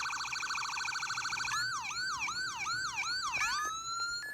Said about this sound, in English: you can hear the siren, the lights go with the sirens